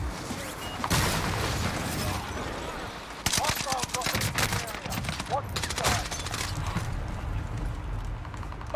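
Gunfire in a military video game, rapid volleys of shots from several weapons cracking in clustered bursts over a constant battle din, loud and close, no talk.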